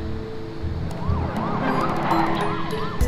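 An ambulance siren sounds in the Two Point Hospital video game, a wailing up-and-down tone repeating over a busy, loud game background with honking-like clutter, no voices.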